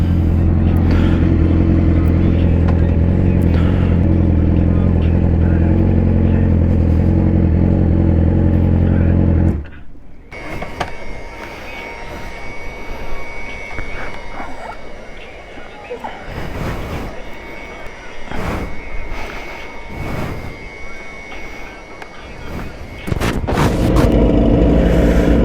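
A motorcycle engine revs loudly and close for several seconds, drops to a lower rumble under people talking, then surges again near the end.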